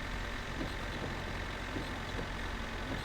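A truck engine in My Summer Car idles in a low, steady, faint drone with a slight throbbing pulse, continuous and unchanging throughout, heard alone without talk.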